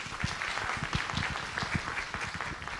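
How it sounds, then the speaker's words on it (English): An auditorium audience at a civil rights symposium claps steadily, a dense, fairly loud patter of many hands that continues throughout with no talk. "Please give another round of applause."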